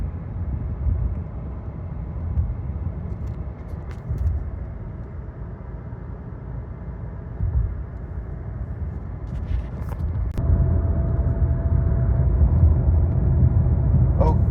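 Steady low engine and road rumble inside a 2023 Kia Sportage cruising on the highway, a continuous droning hum that swells slightly near the end, no talking.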